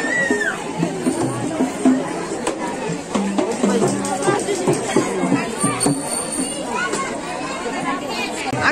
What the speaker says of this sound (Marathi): खूप गर्दी आहे